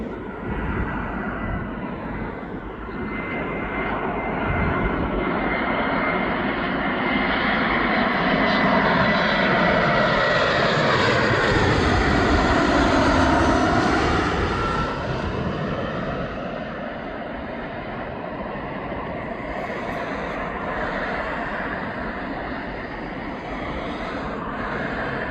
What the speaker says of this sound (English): Flight crew, prepare for landing.